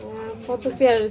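Fancy pigeons coo in a few soft, rounded calls close by, rising louder toward the end, with faint background chatter.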